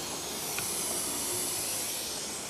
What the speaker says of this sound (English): Brother's letting tyres down.